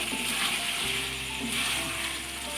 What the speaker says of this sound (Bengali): এই যে মাংসটা আমার এখন কষানো চলছে